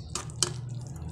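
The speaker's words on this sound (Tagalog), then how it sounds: "Yan, dagdag ng tubig." Water splashes into a pan of pork steak marinated with calamansi, sugar and soy sauce, giving two quick faint pours over a low steady background hum.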